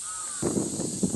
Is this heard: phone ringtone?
no